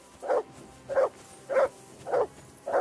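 Dog barking in the video game Kingdom Come Deliverance II, five evenly spaced gruff barks, close and clear, with no talk over them.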